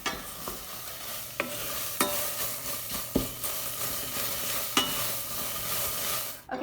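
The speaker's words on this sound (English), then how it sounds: "So I'm going to go ahead and stir it to keep the rice from sticking" Brown rice sizzles and crackles steadily as it toasts in a pan, with a spoon scraping and knocking against the pan every second or so, close and without any voice.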